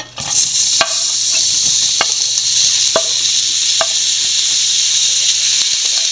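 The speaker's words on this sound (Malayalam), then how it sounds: "ആവശ്യത്തിന് എണ്ണ ഒഴിച്ച് സവോള ഇട്ട് കൊടുക്കാം" Sliced onion sizzles in hot oil in a pan for fish molly, a steady loud hiss broken by a few sharp clinks of a spatula against the pan.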